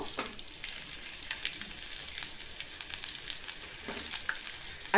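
Onion frying in hot oil for a Goan clam dish, a dense, continuous bright sizzle with occasional crackles and a few soft stirring scrapes, close and steady.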